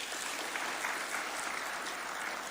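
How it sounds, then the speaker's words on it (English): A crowd applauds for footballer Gaudensha Maloba, a young girl from Lindi in Kibra, as a steady wash of clapping that stays fairly faint and even throughout. "a round of applause for her"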